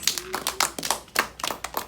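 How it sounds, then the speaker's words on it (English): A small classroom group claps in a short, uneven burst of quick hand claps, fairly close and soft, with a teacher's voice faintly present. "Give her a round of applause."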